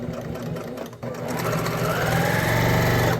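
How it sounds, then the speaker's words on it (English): A sewing machine runs steadily and loudly up close while back stitching the crotch seam of jeans, with a brief dip in speed before it picks back up to a continuous whir. "I recommend back stitching a few times because it is the crotch"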